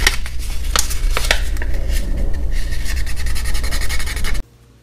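Steady close rubbing and rasping of sandpaper on a small model figure, continuous and fairly loud with a few sharper strokes, stopping abruptly near the end.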